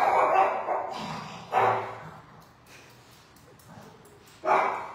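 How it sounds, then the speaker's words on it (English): A small Chihuahua barks in a hair salon during a long-to-bob haircut, with three sharp, loud yaps spaced a few seconds apart and quieter low whimpering noises between them. "that's our security dog, the Chihuahua Patch"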